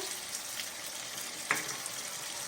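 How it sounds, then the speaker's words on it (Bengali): Chicken pieces with tomato fry in a pan with a soft, steady sizzle, and a single scraping stir is heard partway through. Quiet and close, with no talking. "বেশ চিকেনটা ভাজা ভাজা হয়ে এসেছে"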